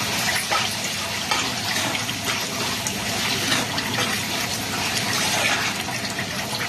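Water poured into a pan of cucumber and tomato curry on the stove, a steady, loud, continuous gushing splash that holds unbroken throughout, close up with no voices.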